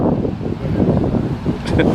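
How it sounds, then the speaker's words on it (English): Heavy wind buffeting the microphone beside a river at Blackwater Falls State Park, a continuous loud low rumble with gusty fluctuations. "so it's really windy, so I apologize"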